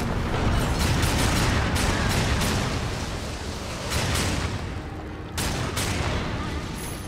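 Dense, loud gunfire and booming blasts from the video game Darksiders II, with rapid bursts running almost continuously and brief pauses between volleys.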